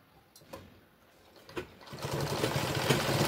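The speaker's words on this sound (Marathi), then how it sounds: "डबल टिबल शिलाई मारून घ्यायची या पद्धतीने" A sewing machine runs a double line of stitching along a cloth strip on a fabric bag, starting faint and then settling into a steady, close, whirring mechanical buzz for the rest of the clip, with no talk.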